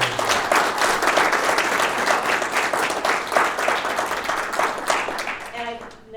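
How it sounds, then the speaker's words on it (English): An audience at a school district student awards ceremony gives families dense, sustained applause that holds steady for several seconds, with a voice speaking as it winds down. "How about a round of applause for our families?"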